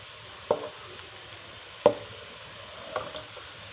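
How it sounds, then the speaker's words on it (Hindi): A knife chops lightly browned onion and spices into a paste on a board: three sharp, separate chops spaced over a few seconds, moderately close and otherwise quiet, with no talking. "अब इसको दूसरे मसाला जात के साथ मिक्स कर लेंगे और इसका पेस्ट बना लेंगे चॉप करके"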